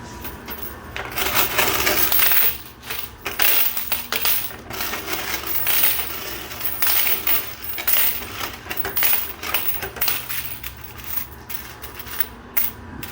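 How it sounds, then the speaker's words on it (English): Quarters clatter and cascade in a coin pusher machine, a dense run of metallic clinks and drops that goes on steadily throughout with no voices. "we're just kind of pushing the quarters now"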